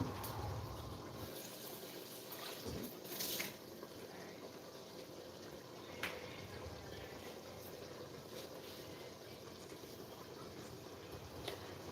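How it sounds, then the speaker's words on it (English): Water running into a rice pot as it is rinsed out, a steady faint splashing rush with a few louder clunks of the pot, no talking. "Rinse it out."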